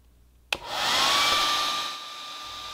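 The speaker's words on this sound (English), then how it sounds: "Now, heat both edges with either a heat gun or a hairdryer." A heat gun or hair dryer clicks on and blows with a loud, steady whirring hiss while heating the edges of a plastic engine shroud, easing off slightly toward the end.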